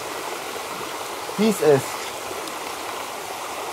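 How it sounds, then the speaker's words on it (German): A river flows nearby as a steady, even rush of water that fills the whole stretch, with a brief spoken voice heard over it. "Hier kommt der Fluss ja lang."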